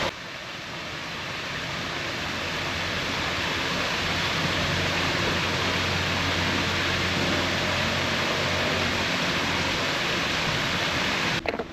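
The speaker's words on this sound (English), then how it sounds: "the waterfall I'm talking about is just over here." Waterfall on a river at Smithills Country Park, where families play in the water: a steady, full rushing roar of falling water, loud and close, holding evenly from start to finish with no voices.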